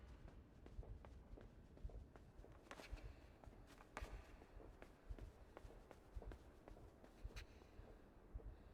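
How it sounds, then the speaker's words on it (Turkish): Soft footsteps in the video game Inside, a steady run of light thuds and scuffs repeating through quiet background ambience, faint and alone with no talk. "Bir ayak sesi var."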